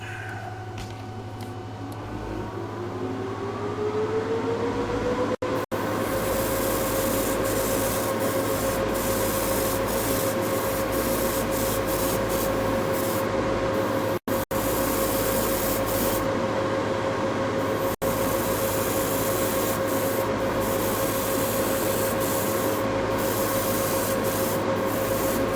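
Gaahleri GHAD-68 airbrush spraying Duplicolor light gray primer, fed by a Serenair air compressor set to 23 pounds, producing a close, steady hiss over a constant motor hum with a few brief breaks, no talk.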